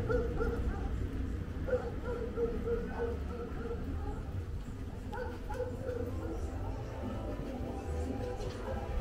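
Dogs barking in Santa Cruz La Laguna, a village on Lake Atitlan in Guatemala, a few scattered yaps and barks at a moderate distance over a busy low outdoor rumble, with faint voices in the background.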